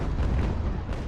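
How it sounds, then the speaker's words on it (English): Cannons fire in Ultimate General: American Revolution, a loud, heavy rumbling boom that fills the whole short moment, with no talking over it. "These cannons are passing right through them."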